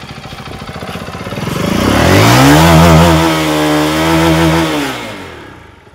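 A Zontes 350T single-cylinder motorcycle with twin exhausts revs up loudly nearby, its engine pitch climbing, holding high for a couple of seconds, then dropping back to idle.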